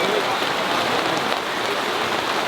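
Rain falls steadily, a dense, even hiss of drops striking surfaces nearby that continues unbroken without a clear voice over it.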